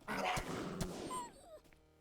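A dog in a video game gives a quick bark and a yip, followed by a thin rising whimper. The sounds are fairly faint and brief, and no one speaks.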